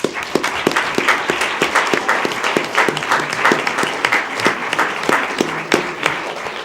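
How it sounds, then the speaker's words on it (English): Round of audience applause at a school board meeting, honoring performers; steady clapping from a modest crowd in a meeting room, with individual claps distinct and fairly close. "Let's give them another round of applause."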